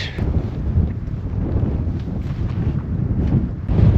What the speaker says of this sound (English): it's nice being back out in the wind again